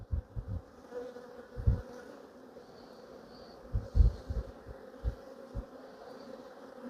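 A dense, steady hum of many bees buzzing around an open beehive during an inspection, close and continuous, with occasional soft knocks and handling thumps underneath.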